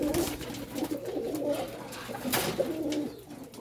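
Captive pigeons coo close by in their cage, a steady run of soft, throaty, overlapping calls with a little low background noise.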